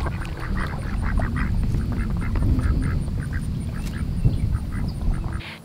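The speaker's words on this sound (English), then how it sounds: "just thriving here on the pond, the ducks and the geese" Ducks quacking steadily with geese mixed in on a homestead pond, a dense chorus of close calls running throughout over a low outdoor rumble.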